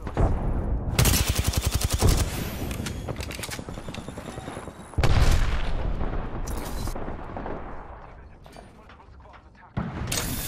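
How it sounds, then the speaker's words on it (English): Gunfire from the video game Apex Legends, with rapid automatic bursts and heavy booming shots in loud clusters separated by quieter lulls, while a player talks throughout. "Who shot that?"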